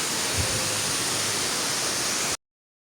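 A waterfall in Norway roars as a loud, constant, close rush of falling water, heard from underneath it, then cuts off abruptly near the end.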